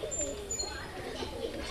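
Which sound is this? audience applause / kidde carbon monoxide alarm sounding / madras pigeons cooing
madras pigeons cooing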